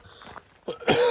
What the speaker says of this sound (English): every morning I always have a little bit of a cough